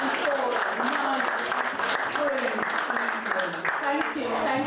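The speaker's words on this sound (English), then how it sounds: "can we have another round of applause for Dominic Crane?" An audience applauds performer Dominic Crane at an evening creative arts event, a steady wash of clapping that holds loud and even, with voices talking through it.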